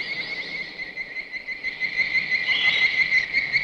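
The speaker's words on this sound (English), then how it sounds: "made by combining the sounds of birds and tree frogs, resulting in this really eerie," High, shrill pulsing chirps in a steady trill, eerie and insect-like, swelling slightly louder toward the end; a movie effect for giant ants, made by combining bird and tree frog sounds.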